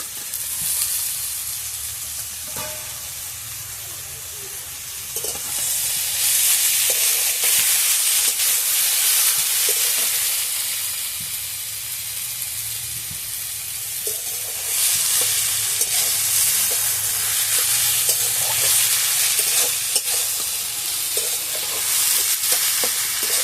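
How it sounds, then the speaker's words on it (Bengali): Fried eggplant is stirred into a sizzling seeded banana curry, a spatula scraping and turning the pieces in the pan under a steady close hiss of frying that swells and eases. "আমি এবার এই ভাজা বেগুনগুলো দিয়ে দিচ্ছি এর মধ্যে"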